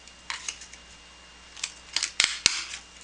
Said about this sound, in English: I want to punch the edges just to put a little decorative design.